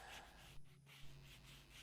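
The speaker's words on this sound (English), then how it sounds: "all these parts get the obligatory hand sanding activity" A sanding block with Velcro-backed 80 and 120 grit paper rubs by hand over small wooden parts for a Citroen 2CV model car, making a couple of short, close rasping strokes against a soft hissy background.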